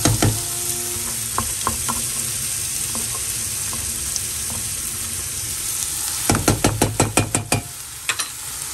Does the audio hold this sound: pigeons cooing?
no